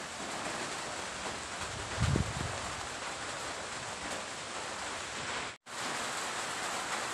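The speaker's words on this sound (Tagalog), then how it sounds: "Hanggang umulan kaya napahinto yung trabaho." Steady, dense rain hiss pours down during a break in bayanihan work at a kubo, with a brief low thud partway through and no voices.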